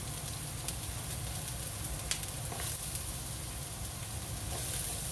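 Chopped onion and ginger fry in a hot pan, giving a steady, even sizzle close up with a few faint clinks of a utensil, and no talking.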